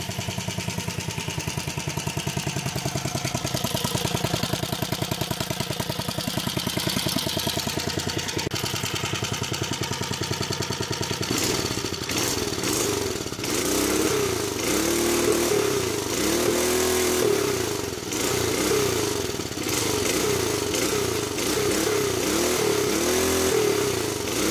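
A Tecumseh engine on a motorized bicycle runs steadily throughout, a loud continuous thumping putter that shifts to a rougher, revving tone partway through, with no talking.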